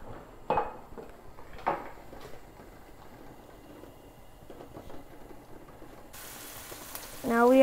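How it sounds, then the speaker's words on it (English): Tempering spices hit hot oil in a pan for a ridge gourd dish. A few utensil clinks and clatters come first, then the sizzle bursts in loudly near the end. "So first put oil, and now add the tempering."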